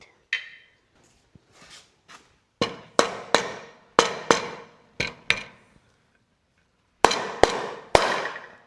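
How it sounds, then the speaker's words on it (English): Sharp metallic hammer strikes on a canning jar ring out one by one, with a few quick pairs and brief pauses between, loud and close. "Sometimes I have to take a hammer and whack it."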